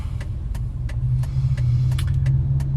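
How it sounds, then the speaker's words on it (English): A truck driving through city streets, with a steady low engine rumble and road noise throughout and faint rattles and clicks over it, with no talk. "I'm just driving, going to my first stop, and I don't take the highway because I'm not driving this truck on the highway."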